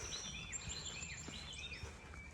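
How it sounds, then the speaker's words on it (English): Several birds call and chirp in a marshy wooded area along a wet, muddy hiking trail, thin repeated tweets and whistles that are faint and distant over quiet background hiss. "All the sounds of the birds"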